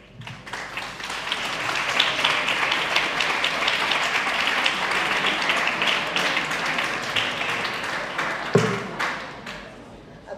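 An audience claps after a university lecture on physics and the universe. The applause is steady and sustained for around ten seconds, then tapers briefly and ends with a few final claps.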